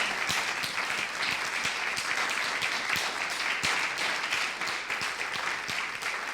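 At an Easter worship service, a church congregation applauds and cheers for the Lord with sustained, dense clapping that stays loud and even throughout.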